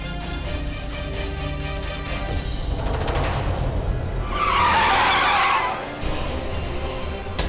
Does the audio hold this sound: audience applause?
no